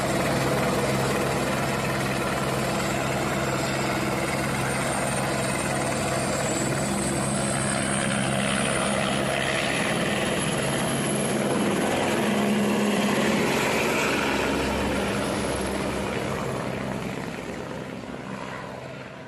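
A helicopter's rotor thrums loudly and steadily, nearby, on the route to Kedarnath, easing off slightly toward the end.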